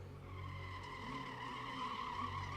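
A drift car's tires skid and squeal through an understeer, a sustained high whine over a low engine rumble that continues unbroken and sounds fairly distant and faint.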